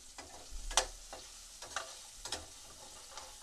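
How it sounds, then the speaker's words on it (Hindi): Quiet sizzling of green peas frying in a pan, with intermittent scraping stirs and a few soft clicks, no voices. "अब हम इनको 1 मिनट तक अच्छे से फ्राई कर लेंगे"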